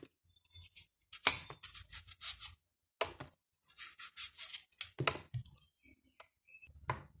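A cucumber is peeled in short, crisp scraping strokes, each one a distinct rasp with quiet pauses between, close and fairly faint, with no talk.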